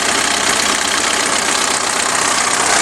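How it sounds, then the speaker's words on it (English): A car engine with a newly fitted alternator runs steadily at idle, a constant broadband rumble and hiss heard up close with no talking. "it's going to be kind of noisy because the car is running."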